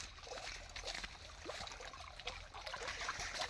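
Water running through a siphon pipe laid across a canal, a steady broadband trickling and gushing that stays fairly constant throughout with no talk over it.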